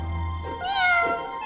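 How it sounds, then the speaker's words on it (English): A high, thin kitten meow from a children's cartoon rises and falls once, loud and close, over a low background hum. "They're little kittens!"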